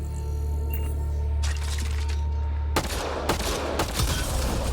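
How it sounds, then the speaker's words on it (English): Gunfire in Mass Effect: Andromeda aimed at a Ket device, heard as a quiet stretch with faint hum before bursts of shots and impacts erupt in the last two seconds. "Shooting the device will destroy it."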